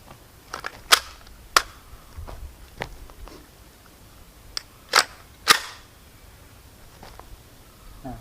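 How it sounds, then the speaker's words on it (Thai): A CZ Scorpion Evo3 S1 fires sharp, cracking gunshots at a steady, unhurried pace, about a half-dozen loud reports with quieter pops between them, heard alone without talk. "ผมจะยิงในจังหวะ ต่อเนื่อง ไม่ช้าเกินไปแล้วก็ไม่เร็วจนเกินไปนะครับ"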